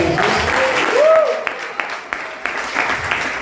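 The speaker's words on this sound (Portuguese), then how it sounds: "Você pode mais uma vez aplaudir o Senhor Jesus." A church congregation claps, a close burst of applause with sharp individual claps under a preacher's voice speaking Portuguese.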